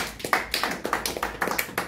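A small church audience claps in a quick, even rhythm, about a dozen close, sharp hand claps in under two seconds with no talking.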